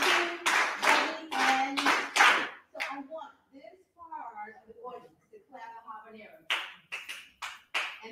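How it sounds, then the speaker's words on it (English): A class claps the New Orleans second line beat, sharp hand claps in a syncopated pattern, first in a loud cluster, then pausing under quieter sound, then returning in a steady run. "And this part would clap the second line beat."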